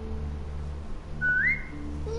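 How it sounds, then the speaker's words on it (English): A single rising two-note whistle, clear and moderately loud, signals a dog in The Walking Dead video game over a low steady background hum. "Now whistle, tell her to lie down."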